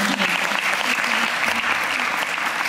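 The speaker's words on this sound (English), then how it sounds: "Give her a round of applause." An audience at a Pond's event claps steadily in a dense, loud round of applause that holds at a constant level throughout.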